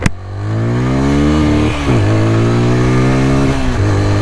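A 2026 TVS Apache RTR 160 4V motorcycle in rain mode with traction control off: the engine catches, then holds a loud steady rev, dips briefly and climbs twice, with no voice over it.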